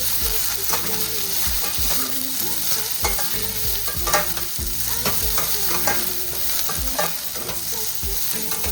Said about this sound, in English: And we're gonna add our okra and saute this.